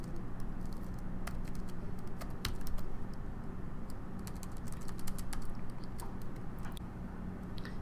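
Someone types on a computer keyboard while editing code in the Komodo 8.5 editor. Key clicks come quickly and unevenly over a quiet room hum, close to the microphone and fairly soft.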